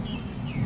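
Heavy rain pours steadily in a cartoon about birds, with a low rumble of thunder rolling underneath throughout and no voices.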